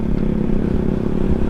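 A Suzuki GSX motorcycle fitted with a CLD Monster X exhaust runs close by, a loud, throaty, steady burble with a rapid pulsing rhythm.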